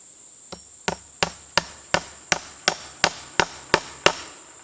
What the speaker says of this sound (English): don't nail it so snug that you break that insulator